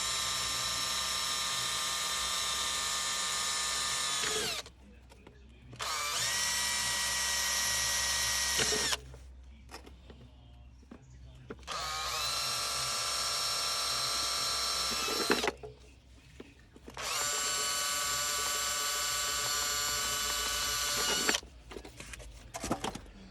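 A power drill whines in four long, steady bursts, stopping and restarting between them, with brief clicks and clatter in the pauses, while fitting a pond auto-fill control box.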